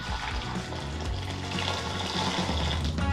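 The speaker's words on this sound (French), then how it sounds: "Nous mélangeons dans un bol et aspergeons d'eau bouillante" Boiling water poured over scored fresh tomatoes in a bowl, a steady close splashing and gurgling pour that runs throughout, with no talk.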